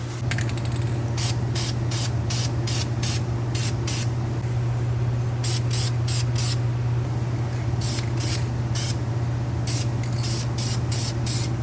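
Clear coat is sprayed from an aerosol can onto the front brake calipers of a Mercedes GLA45 AMG, short rhythmic hissing bursts over a steady low mechanical hum, no talking.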